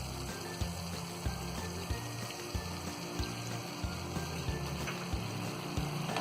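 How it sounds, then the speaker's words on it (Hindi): Water poured into a spicy Indian roast chicken masala gravy after a few minutes of frying, a steady close pour and trickle over a low sizzling hum, with no talk. "तो 2 से 3 मिनट भूनने के बाद में अब इसमें हम थोड़ा सा पानी डालेंगे।"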